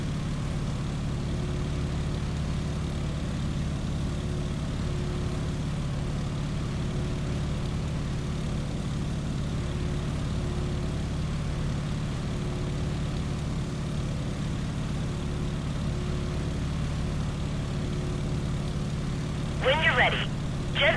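Steady low propeller-engine drone from a plane in Microsoft Flight Simulator, holding continuously at moderate loudness with a brief higher chirp near the end.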